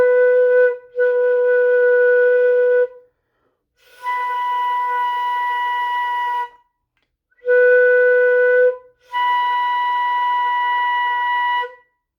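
A beginner's first flute note with the thumb key held down, blown four times as clear, steady, slightly breathy tones, each lasting one to three seconds and separated by short silences.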